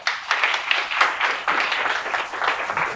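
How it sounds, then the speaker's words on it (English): Audience applause following the close of a talk on psychological safety at work, a dense, sustained crowd of clapping hands at steady loudness, filling the room without any voices over it. "big round of applause"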